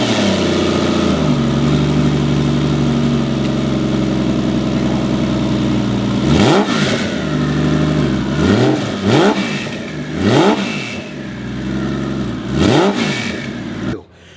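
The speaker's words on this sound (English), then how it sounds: "Over here is a 1969 911S that I've swapped a Subaru Flat 6" A 1969 Porsche 911S fitted with a swapped Subaru EZ30R twin-turbo flat-six idles steadily and loudly, then gives four or five sharp revs between the six- and fourteen-second marks. Each rev rises and falls back to idle.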